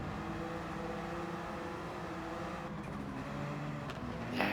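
Race car engines at the Suzuka circuit in Gran Turismo 7 drone steadily at low volume, a continuous distant whine with faint pass-by swells and a small rise at the end.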